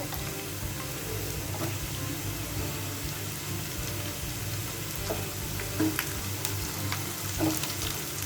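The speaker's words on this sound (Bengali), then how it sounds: "পেঁয়াজ ভাজার এ পর্যায়ে এখন আমি কাঁচামরিচগুলো দিয়ে দিব।" Onions and green chilies fry in hot oil with a steady, even sizzle and occasional soft crackles, close by and without speech.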